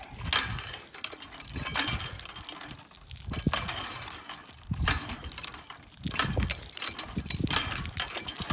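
A hand water pump near Hazrat Miran Mir Darbar in Old Mirpur is worked in repeated strokes, giving rhythmic clanking, squeaking mechanical bursts with splashing water, close by.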